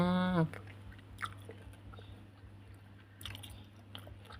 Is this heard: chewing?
yes